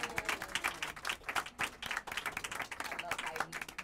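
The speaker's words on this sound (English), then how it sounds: "So now let's give Heidi a round of applause." An audience claps in a brisk, dense burst of applause that stays steady throughout the short stretch, with voices mixed in beneath the clapping.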